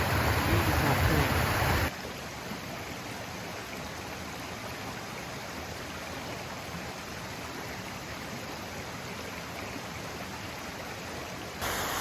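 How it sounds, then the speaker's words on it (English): A creek in the Appalachian mountains rushes in a steady broadband wash, with a louder burst at the start, continuous and fairly close with no talk. "Beautiful creek."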